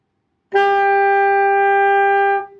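One sustained alto saxophone note, an E, starts cleanly after a brief silence and holds steady for about two seconds before tapering off, played alone.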